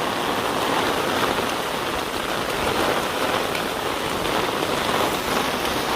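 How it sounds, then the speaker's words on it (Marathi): Heavy rain pours steadily in Dahanu, a dense, loud hiss with no break and no voices. "डहाणूमध्ये खूपच पाऊस आहे"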